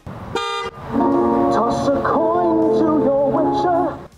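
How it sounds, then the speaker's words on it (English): A short Tesla Model Y horn toot sounds, followed by a longer melodic electronic tune played over the vehicle's speaker, fairly loud and close. "the normal horn was still honked"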